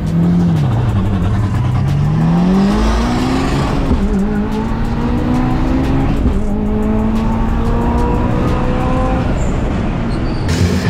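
A Subaru STI 7 on a hill climb run accelerates hard, its engine note rising and dropping through gear changes and revs in a loud, continuous onboard roar.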